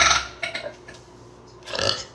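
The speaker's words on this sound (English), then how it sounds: "burping." A loud burp opens the sequence, followed by softer belching bursts and a second loud, drawn-out burp near the end, with quiet gaps between them.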